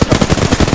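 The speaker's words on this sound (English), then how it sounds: "We're taking fire, friends." Rapid automatic gunfire rattles loud and close in the Apex Legends video game, a dense unbroken burst of shots with no pauses.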